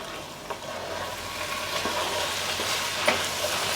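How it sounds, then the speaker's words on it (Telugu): Prawn curry gravy fries gently in a pan over low heat, giving a soft, steady sizzle with faint occasional bubbling pops, close and unbroken throughout. "ఇట్లా సిమ్లో ఏగుతా ఉంటే మనకి నూనె పైకి వచ్చి"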